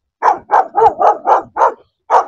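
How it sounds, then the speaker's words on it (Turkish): A dog on a rural hobby garden plot with chickens barks seven times in a steady, even series, loud and close, with no one talking. "Köpeği fazla huylandırmak istemediğimiz için devam etmiyorum."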